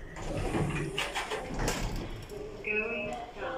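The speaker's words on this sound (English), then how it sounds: "Doors opening." Modernised Kone M Series lift doors sliding open in a House of Fraser store in Plymouth, a continuous rumbling glide over busy shop background, with a recorded voice announcement at the end.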